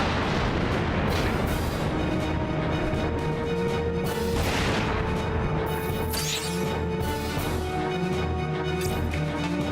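Missile and artillery fire in the mech strategy video game Front Mission 4, a continuous dense roar of booms and blasts with a whooshing streak near the end.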